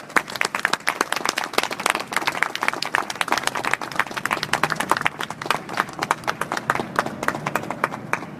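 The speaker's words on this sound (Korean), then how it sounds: "여러분 뜨거운 연대 박수 부탁드립니다" A crowd at a memorial night for a soldier and his family applauding, with steady, dense hand clapping from many people, sustained and even throughout without voices.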